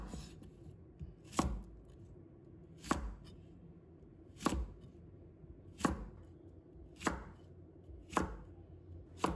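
A knife chops a slim cucumber into short pieces on a cutting board, six crisp, evenly spaced thuds about a second and a half apart, close and clear over a quiet background.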